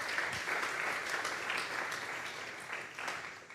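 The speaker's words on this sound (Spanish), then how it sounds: "Vamos a darle una ofrenda de palmas a Dios en esta mañana" Church congregation clapping as an offering of praise to God at a morning service, a steady wash of applause from many hands, moderately distant.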